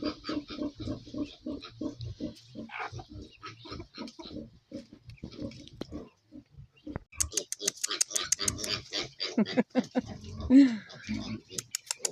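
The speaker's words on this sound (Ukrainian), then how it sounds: "Що ви поросят чуєте, да?" Piglets grunt and squeal in a busy, overlapping chorus, with bird chirps and farmyard noise mixed in, a sharper burst near the end.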